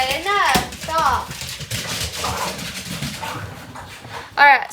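A puppy scuffles and fights with another dog, giving short yelps, whimpers and panting close by, with a sharper burst of yelping at the end, while people talk over the noise.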